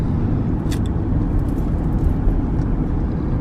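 Steady, loud road rumble from inside a car driving over a bridge toward the Disney World Ticket and Transportation Center, a continuous engine and tire drone with no talk.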